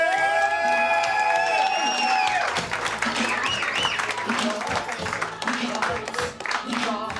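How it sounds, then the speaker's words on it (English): A comedy show crowd claps and cheers loudly for a first-time stand-up comic, with a brief musical sting at the start and whoops rising through the steady applause. "Start clapping right now for Joe Fatorini!"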